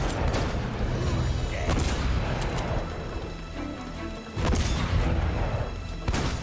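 Shotgun blasts in a video game, several loud booming shots spread across the moment amid dense battle noise, with a voice talking over it.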